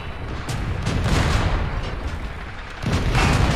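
Enemy tank blowing up in the mobile tank battle game Tank Company, a loud, dense rumbling explosion that rolls on for several seconds, with a fresh booming burst near the end.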